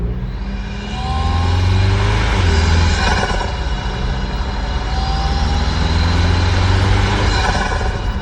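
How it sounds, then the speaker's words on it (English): Loud, steady drone of a turbocharged Toyota Tacoma Trailhunter engine under way, the turbo whine rising in pitch after a brief dip, constant and close with no talk. "hearing that turbo, I could hear it for days on end"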